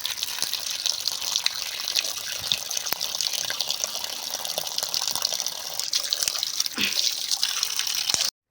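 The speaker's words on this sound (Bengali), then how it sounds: "ঠান্ডা জল দিয়ে আলুগুলোকে ঠান্ডা করে নিতে হবে" Cold water runs steadily over boiled potatoes, a continuous close splashing gush with scattered drips that carries on for about eight seconds and then stops abruptly.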